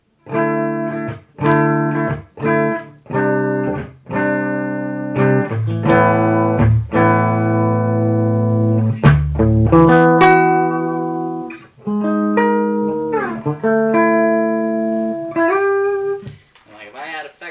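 Clean electric guitar plays through a solid-state head into a Mesa 4x12 cabinet with Vintage 30 speakers: plucked chords and single notes ring out with sustain, in a loose, jamming rhythm.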